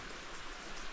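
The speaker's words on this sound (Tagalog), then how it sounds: "Hindi pa naman siya as in ulan na malakas. Parang ambon-ambon pa lang." Light drizzle just beginning, a soft steady patter of fine raindrops on surfaces, faint and continuous over a brief moment.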